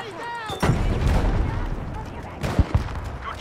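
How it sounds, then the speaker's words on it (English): A grenade explodes with a loud, close boom in Battlefield 5, followed by rumbling debris and a couple of sharp cracks of gunfire, while a voice shouts over the battle noise. "A grenade!"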